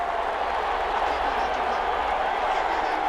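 Stadium crowd in Madden 21 during a Jets at Rams NFL game, a steady, loud roar from a home crowd without a break, with no clear voices over it.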